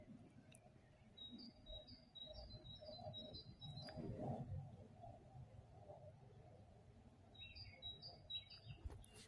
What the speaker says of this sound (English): The beautiful bird song in the morning.